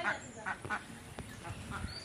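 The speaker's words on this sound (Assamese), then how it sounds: "আজি সকলোৱে চাব হাঁহ" A duck quacks several times in short, nasal bursts, close and moderately loud, with faint voices in the background.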